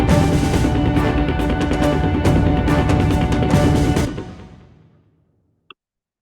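An orchestral fight-scene score with flute and strings plays loud and dense, with regular accents, for about four seconds, then fades away into silence, followed by one faint, brief click.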